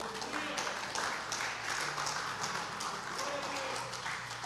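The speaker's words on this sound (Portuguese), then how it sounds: "Vamos aplaudir Jesus?" Applause in a church after a call to applaud Jesus during a sermon on the crucifixion: steady, dense clapping from a congregation runs throughout, with some voices mixed in underneath.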